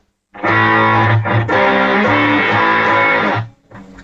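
An electric guitar played through an effects unit with a cabinet emulation and room reverb set to a shorter room, recorded by line input, rings out as a loud, sustained distorted chord phrase with no talk before the sound cuts off.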